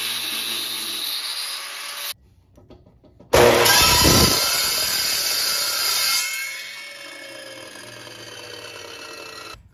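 An angle grinder grinds down a metal hoop for a vehicle hammock mount with a loud, steady, high whine. It breaks off briefly, then bites in again with a harsher roar before settling back to a steadier grind.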